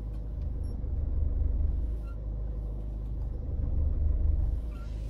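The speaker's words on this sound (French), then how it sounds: "Et écoutez le bruit du moteur." A car engine rumbles low and steady during a hill start, its tone rising and falling slightly as it changes, heard up close without voices.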